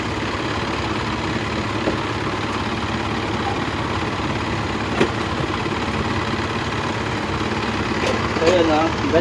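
A car engine idles steadily while its alternator is checked during roadside work on a vehicle with a failed battery, a constant close mechanical hum with a brief knock and faint background sounds near the end.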